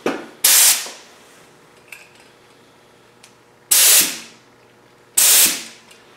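Spray gun misting paint in practice passes for a Triumph Spitfire restoration: three loud, close hissing bursts, each about half a second, separated by quiet gaps with faint clicks.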